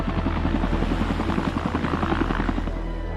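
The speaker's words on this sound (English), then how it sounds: "The remaining sailors are picked up by a second chopper." A rescue helicopter flies close overhead while picking up sailors at sea, its rotor a loud, continuous rhythmic chop with a steady engine drone.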